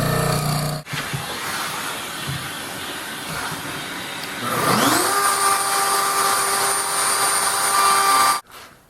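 A handheld router with a guide collar cuts a hinge recess into a wooden workbench, its loud steady whine starting abruptly, rising in pitch as the motor spins up near the middle, then cutting off sharply at the end.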